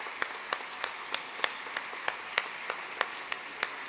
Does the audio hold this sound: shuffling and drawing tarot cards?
no